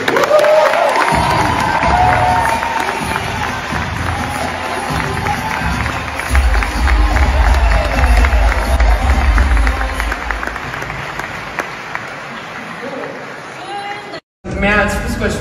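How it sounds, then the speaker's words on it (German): A large crowd applauds and cheers for German women's national football team players, loud sustained clapping mixed with shouts and a voice over a PA, with a brief drop near the end before resuming. "Ein dicken Applaus für unsere Fußball-Nationalspielerin Merle Froms und Feli Rauch sowie Dr. Holger Blass vom DFG."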